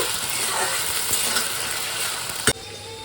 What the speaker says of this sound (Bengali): এবারে কেটে রাখা আলু দিয়ে দেবো এবারে ভালো করে ভেজে নেব